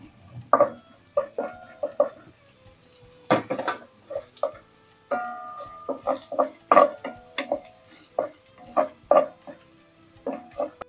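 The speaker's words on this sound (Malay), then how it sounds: "Kita tumis dulu bawang putih sehingga kekuningan ya." Garlic sautéing in oil in a heated pot for a mushroom soup, heard as a run of stirring scrapes, clinks against the pot and light spattering in short irregular bursts, close and moderately loud, with no talk.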